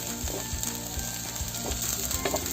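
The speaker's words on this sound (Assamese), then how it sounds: "এয়া মোৰ মছলা ভজা হৈ আছে।" Spice mix with chopped ginger frying in a pan for a potato and pea curry, a continuous close sizzle with crackling and a few light stirring scrapes, no voices.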